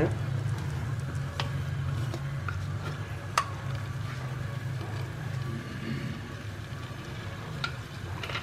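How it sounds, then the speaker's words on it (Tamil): Cashew nuts roast in ghee in a pan on a low flame, giving a soft steady sizzle with scattered clicks and taps of stirring and a low background hum, with no voices. "இப்போ நம்ம நெய்யையும் முந்திரி பருப்பையும் வறுப்போம் நெய்யில்"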